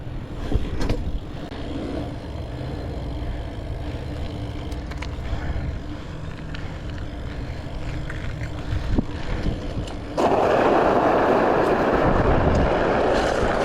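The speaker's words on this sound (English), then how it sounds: "the wind's been crazy lately" Strong gusts buffet the microphone outdoors at a South Florida high school during a BMX session, a rumbling, roaring wind noise that surges much louder near the end, with no speech.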